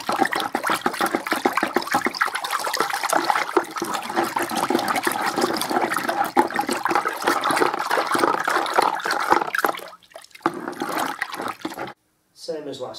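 Wallpaper paste for lining paper is stirred in a bucket, giving a continuous wet sloshing and swirling close by for about ten seconds before stopping, followed by brief faint scrapes.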